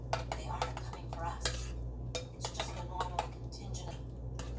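A utensil stirs and clinks against a bowl while sauce is mixed for cooking ribs, making repeated scraping taps over a low steady hum, with a voice faintly audible.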